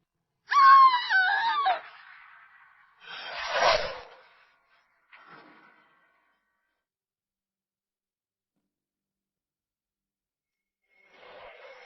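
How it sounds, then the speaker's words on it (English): A woman's scream plays back from a recording at a murder investigation: a strained, wailing cry followed by a second harsh cry, then a brief faint sound and long silence before a quiet murmur at the end. "It's the scream. From that night."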